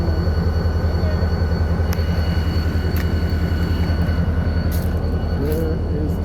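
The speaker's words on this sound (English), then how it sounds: "I think the train is passing." A train rumbles past steadily along the Bedford Highway in Nova Scotia, its low mechanical drone continuous, with faint squeals and clicks of the wheels over the rails.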